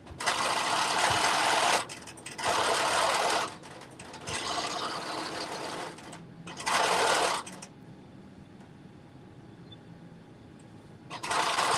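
A sewing machine stitches the inner seam of jumpsuit pants, whirring loudly in four distinct runs separated by brief pauses, then falling quiet before one more short burst at the end.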